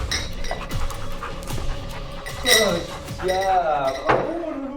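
A dog pants during scent detection training, quick breaths running under a voice with occasional faint clinks of glass or metal nearby.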